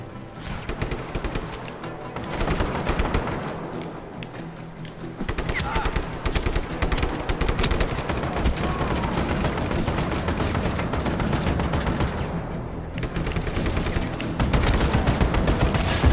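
Sustained rapid gunfire in Just Cause 3, dense automatic bursts running almost continuously with a few brief lulls, loud and close.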